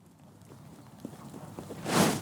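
A horse walks on during a dressage lesson, its hoof clip-clops soft and fairly close in a loose rhythm before a louder broadband rush near the end.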